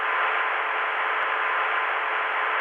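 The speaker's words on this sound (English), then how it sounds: "it's the Atlanta dial tone via Columbia." Atlanta telephone dial tone reached via Columbia over a 1981 private-network phone line: one steady, unbroken tone buried in heavy line hiss, faint and constant throughout.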